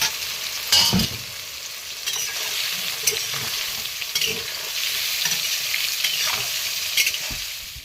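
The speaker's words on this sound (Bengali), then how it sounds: "আর এবার সোয়াবিনটা ভেজে নেব।" Soaked soybean chunks frying in hot oil in a pan, with a loud continuous hiss and sizzle and occasional scraping knocks of a spatula turning them, near and uninterrupted by speech.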